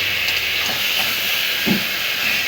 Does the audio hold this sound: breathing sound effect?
no